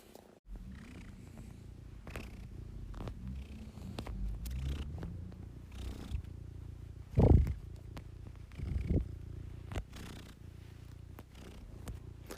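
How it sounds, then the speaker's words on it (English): A cat purrs steadily and close, a low continuous rumble broken by a couple of louder thumps and shuffling movements. "Sound of plodding and purring."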